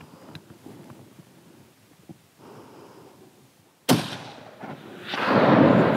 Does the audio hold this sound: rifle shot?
yes